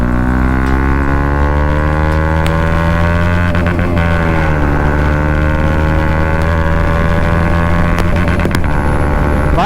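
Bajaj Pulsar NS200 motorcycle fitted with an Akrapovic exhaust cruising on a highway, its engine note a loud, steady drone with a shift in pitch midway, accompanied by constant wind rush.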